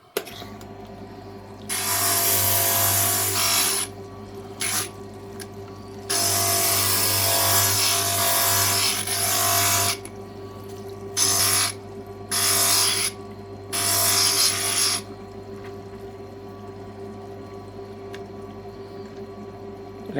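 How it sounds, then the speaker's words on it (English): A glass grinder shapes a coin ring cut from an old quarter dollar, its bright grinding whine coming in several bursts of varying length over a constant low motor hum, with pauses between passes. "I now want to grind this to fit in there"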